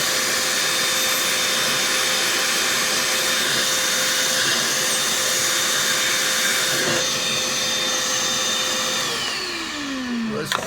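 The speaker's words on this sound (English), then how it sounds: "So now we're going to take the vacuum." A shop vacuum roars steadily at close range with a high whine while cleaning the air and fuel mixture ports of a 2000 Workhorse P30 Chevy 5.7 V8, then its pitch sinks as the motor begins winding down near the end.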